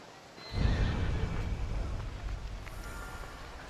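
A horse in the video game Assassin's Creed Odyssey gives a loud, drawn-out neigh with hoof clatter and a rustling game ambience around it, close and clear with no speech.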